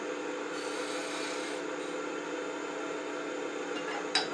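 Steady, continuous abrasive rubbing of sandpaper against a wooden sphere for a carved owl, an even rasping texture that holds without pause, with a brief sharper scrape near the end.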